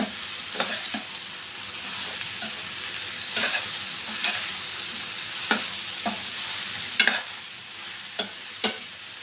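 Chili powder being stirred into a vegetable curry in a pan, with a steady close sizzle of frying and repeated scraping knocks of the spoon at irregular intervals, no voices.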